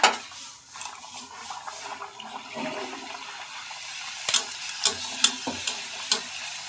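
Luchi frying and puffing up like a ball in hot oil, a soft bubbling sizzle with a few sharper pops and splashes later, close and moderately quiet.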